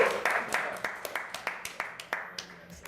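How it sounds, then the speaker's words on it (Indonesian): An audience at an indoor seminar claps in a quick burst, individual sharp claps audible in a loose rhythm that thins out toward the end. "Tepuk tangan sekali lagi."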